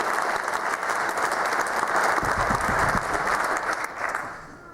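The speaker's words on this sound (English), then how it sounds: "let's give all of those folks a nice round of applause" A theater audience gives a loud, dense round of applause that holds steady for several seconds and then tapers off at the end.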